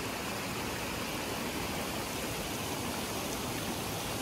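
Dense, steady rushing water fills the scene, like a stream pouring over rocks at a hiking-trail water crossing in the Shenandoah, continuous and close with no voices.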